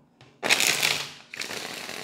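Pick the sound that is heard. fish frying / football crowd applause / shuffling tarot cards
shuffling tarot cards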